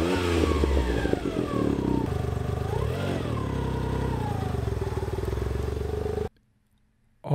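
A Mazda Autozam AZ-1 kei car's 0.6-liter three-cylinder engine, breathing through a three-piece stainless exhaust, revs loud and deep with rising and falling pitch for about six seconds, then cuts off abruptly into near silence.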